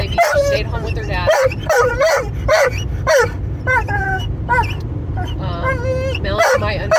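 On a Utah camping trip a dog barks in repeated short bursts and whimpers between them, close and loud, with people talking over the barking at times.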